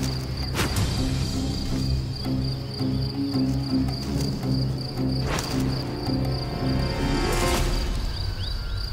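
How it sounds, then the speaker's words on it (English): Crickets battling in a territorial fight give a steady, dense chirping drone with scattered sharp clicks and scrapes, close and continuous throughout, without any voices. "The powerful crickets are so engrossed in beating each other up, they haven't noticed a spectator."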